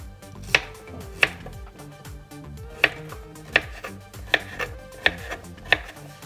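Vegetables are cut into cubes with a knife on a board, sharp irregular knocks of the blade in quick groups and pauses, close and clear with no talk.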